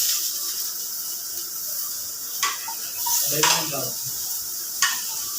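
Onions sautéing in a pan for adobo sa gata, a steady soft sizzle with a few sharp scraping stirs of a utensil against the pan, and a brief spoken question partway through.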